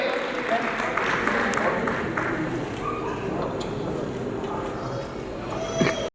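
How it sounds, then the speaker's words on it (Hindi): Audience applause for team members at a Lions club charter night celebration, a steady crowd clatter throughout, fairly distant and mixed with background chatter, ending in a brief louder burst. "एक बार जोरदार तालियां हमारे टीम मेंबर्स के लिए।"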